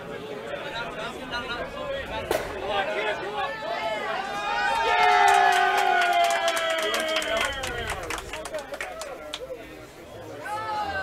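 A curling crowd at a bonspiel quarterfinal lets out a rising murmur of voices and a few claps as a takeout shot nearly spins a stone onto the rings, swelling midway and then settling back into chatter.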